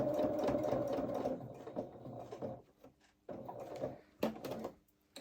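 Sewing machine topstitching a second row on small fabric coveralls for a toy rabbit's mechanic outfit, close and steady whirring in bursts, pausing briefly then running again in two shorter runs.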